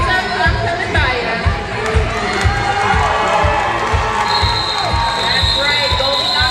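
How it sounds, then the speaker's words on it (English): A crowd cheers and shouts at a rec league roller derby bout, loud and sustained, with a regular thumping beat and voices mixed throughout. "I am hearing so much cheering."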